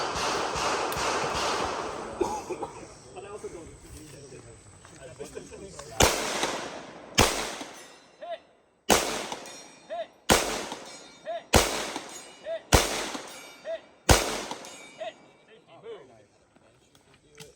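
Pistol caliber carbine shots ring out at a competition shooting stage, a series of about seven sharp, evenly spaced cracks with short echoing tails, following a stretch of shuffling movement and voices.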